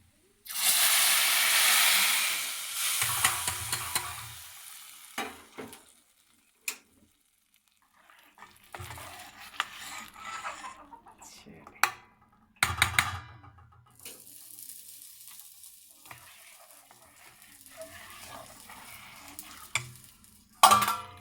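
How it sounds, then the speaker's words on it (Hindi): A loud burst of hissing sizzle erupts as a hot oil tempering hits cooked moong and masoor lentils, then fades into quieter bubbling and occasional clanks of stirring. "इसको डाल देते हैं दाल में और एक खूबसूरत आवाज़ आएगी।"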